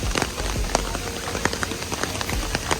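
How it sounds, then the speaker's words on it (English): Steady rain falls in Japan, a dense constant patter with scattered sharper drops and splashes, close and continuous, with no talk. "Because it's constant rain."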